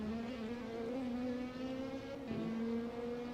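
A DTM race car in a racing video game roars steadily from an onboard view, its engine tone holding high, dipping briefly as it shifts around a chicane, then climbing again, continuous and fairly faint with no voices.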